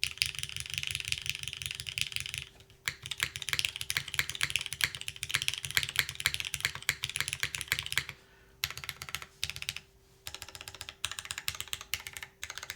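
Rapid, even keystrokes from a custom-built Karina mechanical keyboard with a plastic plate, clattering close up in steady bursts with a couple of brief pauses, over a constant low hum.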